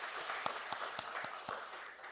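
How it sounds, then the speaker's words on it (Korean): Applause from a church congregation during a Sunday worship service, welcoming back a member recovering from surgery: sparse, rhythmic clapping with distinct claps about every quarter second, moderately faint and roomy. "건강 회복하시도록 권사님께서 한번 박수 보내주시기 바랍니다."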